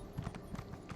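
A horse gallops in The Elder Scrolls Online, its hooves giving a quick, rhythmic clip-clop that stays faint and lasts only a moment.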